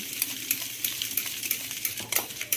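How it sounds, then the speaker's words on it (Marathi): Dalgona coffee whisked by hand in a cup, a rapid run of bright metallic clicks and taps with a steady rhythm, close and without talk. "तर अशा पद्धतीने खूप वेळ फेटून घ्यावं लागते डालबाणा कॉफीसाठी"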